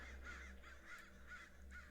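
A raven caws over a city in a run of about six evenly spaced, harsh calls. The calls are faint and distant.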